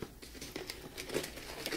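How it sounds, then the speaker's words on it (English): Wax paper crinkling and rustling as it is pressed onto wet, running paint colors, a continuous close, soft crackle with a few sharper crinkles and no talk. "And now I'm ready to come in again with the wax paper."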